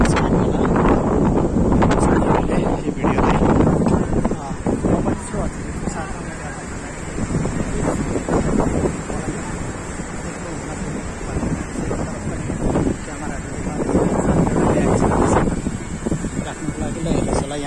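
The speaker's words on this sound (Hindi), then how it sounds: "समुद्रको हावा शीतल हावा चिसो हावाको अनुभूति गर्न पाइन्छ" Sea waves wash onto a beach in Odisha while strong wind buffets the microphone, a loud continuous roar with surging swells rising and falling, no talk over it.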